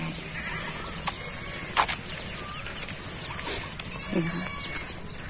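Lamb and young goats bleating on a farm, a few short cries scattered at a moderate distance over steady outdoor background noise, with birds faintly audible.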